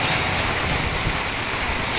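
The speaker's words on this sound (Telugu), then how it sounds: "రాత్రి తెల్లవారులు ఆగకుండా అరుణాచలంలో ఇలా వర్షం పడుతోంది" Steady, dense rain pours down continuously at Arunachalam, falling nonstop through the night, a broad hiss of drops hitting surfaces with no voices.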